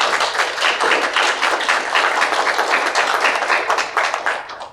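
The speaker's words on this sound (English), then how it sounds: "Let's give them a big round of applause," Conference audience giving a round of applause during welcome and introductions, many hands clapping in a full, steady burst close to the microphone, holding strong for several seconds before tapering slightly at the end.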